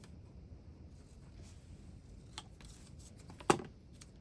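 Quiet crafting sounds as scissors cut flowers for a textile junk journal tag. Faint small snips and rustles lead up to one sharp, crisp cut near the end.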